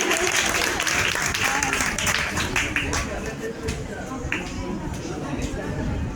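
An audience at a school farewell party applauds steadily throughout, a dense wash of clapping with a murmur of voices mixed in beneath it.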